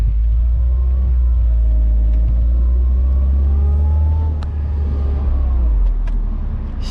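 Engine of a 1998 Mercedes-Benz SLK 230 with the top down, droning and rising as it pulls while driving on a foggy road, loud and close with steady low rumble, no speech.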